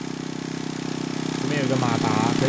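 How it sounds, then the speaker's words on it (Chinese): A motor runs inside the Escape from Tarkov video game as a steady, pulsing mechanical drone that grows slightly louder, with someone talking over it in the second half. "马达声蛮吵的。"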